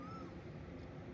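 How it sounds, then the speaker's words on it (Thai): A crow caws once over a low, steady outdoor background, a single call partly masked by broadband ambient noise. "ตื่นมารับอากาศฟังเสียงนกฮ้อง"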